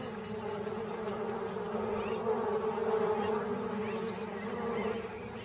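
Bees buzzing steadily around a water pit in hot wild country, a continuous close insect drone with a few brief higher whines over it.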